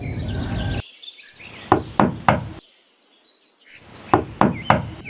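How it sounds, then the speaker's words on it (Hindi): A cartoon crow knocks on a door in a forest, two bursts of three sharp, close raps separated by a pause, with faint chirping tones beneath. "अपनी बहन के घर पहुंचकर चंदा कवि दरवाजे पर दस्तक देती है।"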